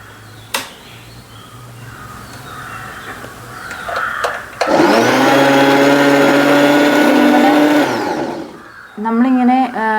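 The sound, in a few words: sewing machine running via foot pedal, winding bobbin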